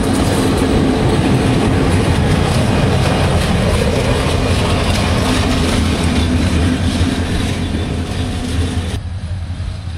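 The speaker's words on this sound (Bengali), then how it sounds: "এই যে 2900 লোকোমোটিভ আমাদের ট্রেনের চলে আসছে।" Steady, loud rumble and rattle of a train in Bangladesh with a 2900 class locomotive, a continuous rolling clatter of wagons and engine close by that eases slightly near the end, with no talking.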